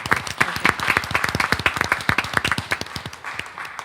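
Audience applause at a school board meeting, a few dozen people clapping in a dense, lively patter that gradually thins out, close and alone without talk.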